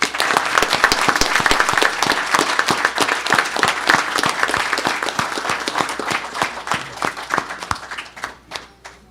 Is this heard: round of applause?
yes